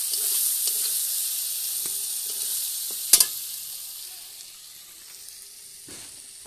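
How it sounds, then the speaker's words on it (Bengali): Tangra fish frying with spices in a wok gives a bright, close sizzle that slowly fades, broken by a sharp utensil scrape or clack partway through and a few soft stirring knocks. "মশলা টসলা দিয়ে আমি এখন ট্যাংরা মাছ দিয়ে দিয়েছি কড়াইতে।"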